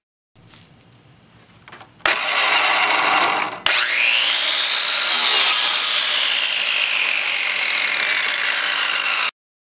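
Power saw cutting wood pallet boards to length for a picture frame, a loud, steady whine that starts abruptly after a quieter lead-in, breaks briefly, then runs continuously for several seconds before stopping.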